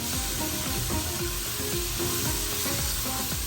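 Minced chicken keema sizzles and crackles steadily as it hits a hot pan of spiced base, a close, continuous frying hiss with faint stirring scrapes and no talking.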